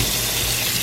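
Water gushes into a kitchen pot for making brine, a brief steady hiss of pouring, close and fairly loud, with no talk.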